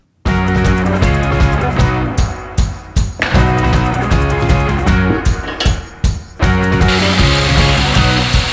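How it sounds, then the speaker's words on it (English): A power tool cuts through steel grating, a loud, close, harsh grinding roar broken by a few short pauses and shifts in pitch as the blade bites. "I'm cutting out a piece of that and welding it to the bottom of this cart"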